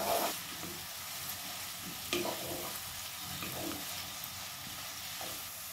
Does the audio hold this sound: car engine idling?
no